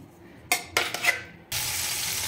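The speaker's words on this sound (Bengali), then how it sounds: "এখন মাছটা ভেজে নিই" Fish frying in oil in a pan for a fish curry with bori, potato and tomato: a few sharp clattery bursts, then a steady close hiss of sizzling oil that holds on to the end.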